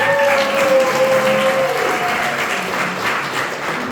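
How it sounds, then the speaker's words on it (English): A big round of applause from an audience at a holiday-season event, loud, continuous clapping that fills the room and tapers slightly toward the end. "How about a big round of applause?"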